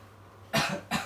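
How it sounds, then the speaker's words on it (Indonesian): Two short, close coughs from one person break a quiet room, the second following soon after the first. "Kamu ini batuk-batuk terus."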